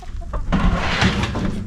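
Hens cluck and murmur inside a chicken coop, a busy close cluster of short calls and rustling that grows louder after a quiet start, with no speech.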